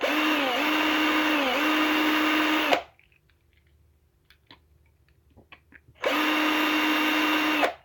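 A power drill whines steadily into a 1:64 diecast car, runs for nearly three seconds, stops for a few seconds of quiet with faint clicks, then starts again, loud and close.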